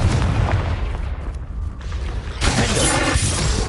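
A Confringo fire spell explodes in the wizarding game Hogwarts Legacy, with a heavy booming blast and crackling debris, then a second burst about two and a half seconds in, with no speech.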